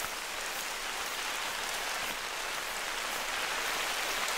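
Heavy rain pouring in theHunter: Call of the Wild, a dense, steady hiss of downpour that stays constant throughout with no talking.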